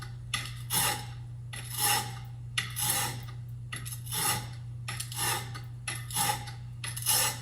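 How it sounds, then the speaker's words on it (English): A steel chisel is drawn over the coarse side of a sharpening stone in about seven steady rasping passes, each a close, scratchy pull with brief pauses between, over a constant low hum. "I just maintain the angle of that cutting edge and make several passes, pulling the chisel toward me"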